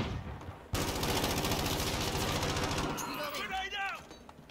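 Rapid automatic gunfire from a Call of Duty match erupts after a brief quiet moment and keeps firing steadily for several seconds, with players talking over it and electronic game sounds chirping near the end.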